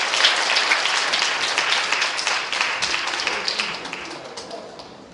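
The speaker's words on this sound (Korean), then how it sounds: "박수 하겠습니다." A church congregation claps together in a patriotic Christian youth service, broad dense applause sustained throughout at moderate loudness without talk over it.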